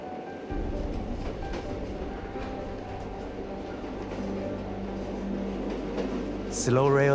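Passenger train on a slow heritage rail line in Australia, formerly a wheat route, rumbles steadily from inside the carriage with a continuous low drone and faint track noise, ending in a rising squeal.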